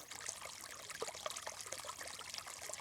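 Clear water flowing in a stream past a camp, a steady trickling and gurgling wash with small splashy bursts, close and continuous, no voices.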